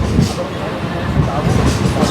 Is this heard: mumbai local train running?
yes